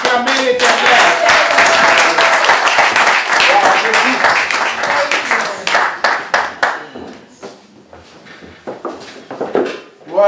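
A church congregation claps loudly and rhythmically in praise to the Lord, with cheering voices over the claps. The clapping thins into scattered claps near the end.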